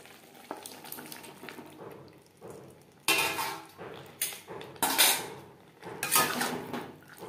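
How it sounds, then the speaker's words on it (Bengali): Spoon scraping and clattering in a pan as fried capsicum is stirred into spices and yogurt, with irregular scrapes and clinks and a faint sizzle, close and moderately loud, no voices. "মশলার সাথে ক্যাপসিকাম বেশ ভালো করে মিক্সড করে দেব।"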